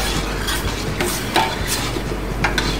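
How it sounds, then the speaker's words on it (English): Canned and raw mushrooms cooking in butter in a pan give a soft sizzle under repeated close stirring scrapes and light utensil clinks against the pan. "Now my mushroom is start to cook."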